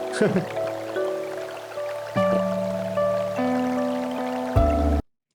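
A synthesized water stream made in Pure Data during live-coded electronic music: trickling, dripping texture runs under sustained synth tones and pitched notes, stopping abruptly at the end.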